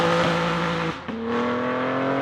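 A 2023 BMW M340i with a single-turbo inline six revs near 3000 RPM. The engine tone holds steady, drops briefly around a shift, then climbs back to a strong, smooth drone, close and loud.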